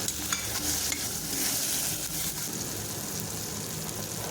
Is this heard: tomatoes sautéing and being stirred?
yes